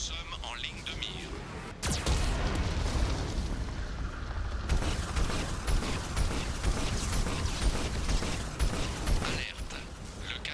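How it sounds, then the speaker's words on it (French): Deep booms and rumbling blasts from a Geth cannon firing at a ship in Mass Effect 2, with a sharp crack near the start and sustained roaring impacts afterward, mixed under game effects. "Le canon Geth verrouille notre position."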